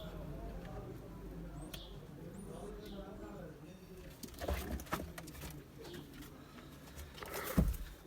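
Ornamental pigeons in a loft give soft, low coos in short bursts over a quiet indoor background, with occasional rustles and a sharp knock near the end.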